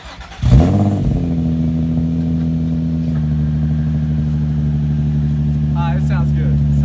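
A Nissan 350Z with a new aftermarket exhaust cranks and fires up loudly nearby, settling into a steady, deep idle, with voices briefly heard near the end.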